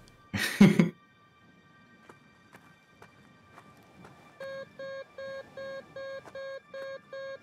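In the video game Kathy Rain: Director's Cut, a loud burst of noise opens, followed by a few faint clicks, then a metal detector's steady run of electronic beeps repeating evenly at a quick pace.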